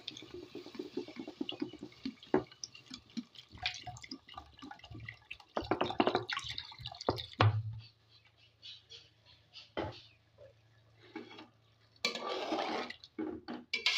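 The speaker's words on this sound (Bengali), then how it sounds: "এটা আমি এবার পানি দিয়ে দেবো কিছুটা পরিমাণ" Water is poured into a pot of simmering rui fish curry, with a short splashing pour among soft clinks and stirring of the pot; quiet and close, without talk.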